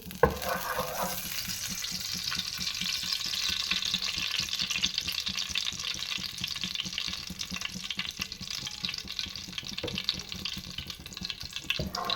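Steady, dense sizzling of ghee heating in a pan for a dal tadka fills the whole stretch, a constant hot-oil crackle with faint clinks near the start.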